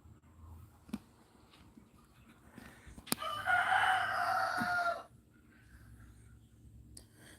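A rooster crowing outdoors in Jamaica, one loud drawn-out crow of about two seconds rising over quiet background with a few clicks and knocks.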